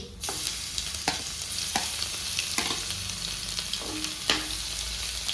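Cumin seeds and crushed garlic frying in hot oil, a bright steady sizzle punctuated by several sharp scrapes of a spoon against the pan, close up and without speech.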